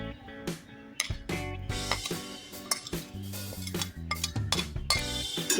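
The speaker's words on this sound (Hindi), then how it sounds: "ये तमाम चीज़ें मैं मिक्स कर रही हूँ।" Brinjal salad ingredients being mixed in a bowl, with steady clinking and scraping of utensils against the dish, close and fairly busy, and no talking.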